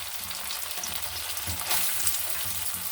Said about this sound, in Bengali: ওই একই তেলের মধ্যে আমি সোয়াবিনগুলো দিয়ে দেবো,